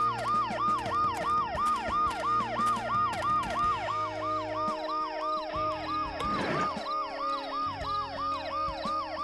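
An ambulance siren in the video game Dead Synchronicity wails in a fast, repeating up-and-down pattern, loud and continuous throughout.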